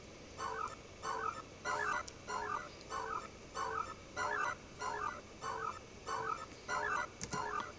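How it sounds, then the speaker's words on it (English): Cartoon songbirds from the opening well scene of the Snow White film, run through a sampler so they sound strange: regular repeated chirping bursts, about twelve evenly spaced calls over steady background hiss, fairly loud and with no voices. "these are the birds from the beginning of the movie when Snow White's talking to them at the well"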